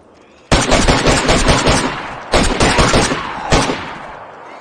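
Bursts of fully automatic gunfire in the survival video game DayZ: three loud, close rapid-fire strings, the first long, then two shorter volleys, each trailing off into echoing decay.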